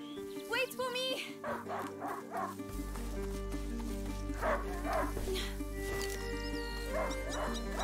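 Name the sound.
hunting dog barking in video game Plague Tale: Innocence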